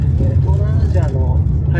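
Interior of a Bolt ride-hailing car driven through Chiang Mai, Thailand, with a steady low engine and road rumble throughout and a voice talking over it.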